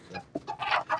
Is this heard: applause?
no